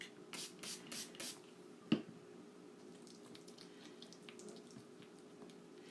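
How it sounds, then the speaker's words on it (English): Several short hissing bursts from a spray bottle of distilled water up close, followed by a sharp click and a low continuous hum. "what I'm spraying in there is distilled water"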